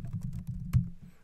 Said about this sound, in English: Hit enter. Type in your password.